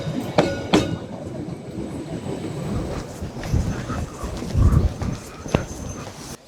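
A train rolls past a retro level crossing on a seaside coastal trail near an old station, a continuous rumbling clatter with sharp metallic clanks and rising, falling loudness, close by.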